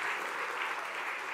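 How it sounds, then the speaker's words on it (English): An audience at a Christmas church service applauds, a continuous, even roar of many hands clapping, moderately distant and steady for the whole stretch. "You sit down and give them a round of applause."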